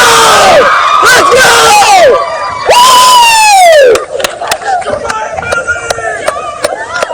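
A packed high school football crowd in Tennessee roars and chants on game night, loud rising cheers and yells swelling in bursts, with a fired-up voice shouting over them.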